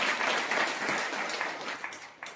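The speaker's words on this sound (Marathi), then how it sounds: "त्यांच्यासाठी थोडासा जोरदार टाळी वाजवा." An assembled audience at a Rudra puja gathering during a Shravan-month ritual breaks into loud, sustained applause, a thick wash of many hands that slowly thins toward the end.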